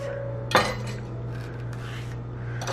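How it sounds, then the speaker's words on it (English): A knife slices through a banana with one sharp tap against a cutting board or plate, followed by soft handling sounds over a steady low kitchen hum. "The first thing we're gonna need is a banana. And I'm just gonna cut this in half."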